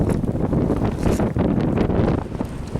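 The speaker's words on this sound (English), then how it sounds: "It's really windy out here." Strong wind buffets a microphone outdoors on the George Washington Bridge, a loud, continuous, rumbling roar with gusty surges throughout, and no voices.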